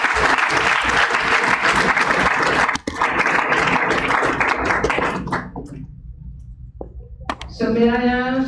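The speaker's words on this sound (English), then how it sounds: "Let's give our judges a big round of applause." A debate audience breaks into loud, dense applause that rolls on continuously, briefly dipping, then tapering off as the clapping thins out and a voice begins speaking near the end.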